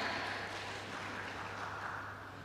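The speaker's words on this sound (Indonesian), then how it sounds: "Terima kasih, kami haturkan beri tepuk tangannya." A hall audience at a student organization inauguration gives a steady wash of applause, moderately distant and even, fading slightly toward the end.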